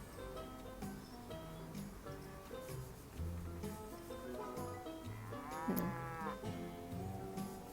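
Cows mooing in a mobile farm video game, several drawn-out bovine calls over a busy looping game soundtrack, one rising moo standing out near the end.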